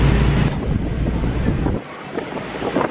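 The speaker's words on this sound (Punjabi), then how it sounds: "ਹਵਾ ਥੋੜ੍ਹੀ ਜ਼ਿਆਦਾ ਚੱਲਦੀ ਆ ਔਰ ਥੋੜ੍ਹਾ ਸਾਊਂਡ ਵੀ ਆਏਗਾ ਯਾਰ" Strong wind buffets the microphone on the open deck of a Dubai RTA ferry running from Dubai to Sharjah, a loud continuous roar that eases slightly partway through, with water and engine rumble beneath.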